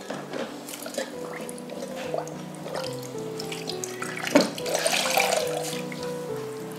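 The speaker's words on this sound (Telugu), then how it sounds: "ఫేస్ వాష్ చేసుకొని చూపిస్తాను" Tap water runs steadily into a sink during a face wash in a skincare routine, with a continuous splashing flow and occasional louder splashes, close and moderately loud, with no talking.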